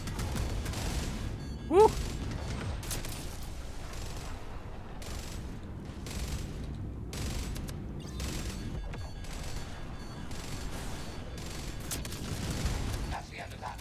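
Ship weapons fire in a PVE space combat game, a long run of repeated blasts over a constant low rumble, with a voice briefly whooping near the start.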